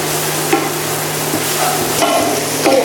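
A spoon stirring a spiced mixture of cumin powder and garam masala frying in a pan for papad patties, with steady sizzling and a few light scraping clinks, close and loud, no talking.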